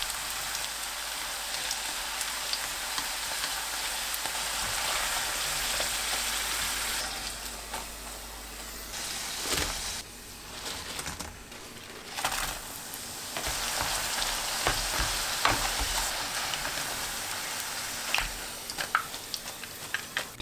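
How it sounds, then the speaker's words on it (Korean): Eggplant coated in egg and potato starch deep-frying in hot cooking oil, a dense continuous bubbling hiss like heavy rain, close and steady for a long stretch with brief dips and crackles. "식용유가 예열되면 가지 넣고 튀겨주세요."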